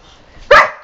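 Several dogs burst into a single loud bark close by, after a moment of near quiet, sharp and brief in a home on the day after Thanksgiving.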